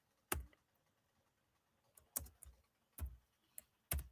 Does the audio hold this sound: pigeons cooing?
no